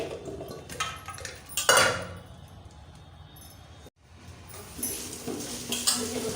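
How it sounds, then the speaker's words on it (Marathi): Food being washed two or three times inside a cooking pot: clinks of the metal pot and swishing, sloshing water, with a couple of louder knocks and a short pause midway. "पातेल्यामध्येच ह्याला धुते 2-3 वेळेस धुवून मग पातेल्यातच लावून घेणार आहे"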